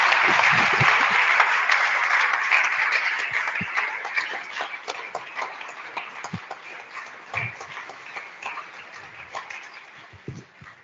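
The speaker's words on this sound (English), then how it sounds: "please give us a wonderful and a big round of applause for Mirjam" Conference audience applauding for about eleven seconds, a dense wash of clapping that starts strong and gradually thins and fades, with scattered individual claps near the end.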